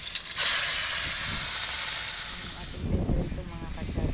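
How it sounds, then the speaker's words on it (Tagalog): Freshly speared fish hit hot oil in a heated pan, setting off a loud, bright sizzling hiss that holds for a few seconds, then drops to a softer crackling bubble. "Mainit na yung kawali mga ka-channel. Lalagyan na natin ng mantika. Dahil magpiprito na tayo."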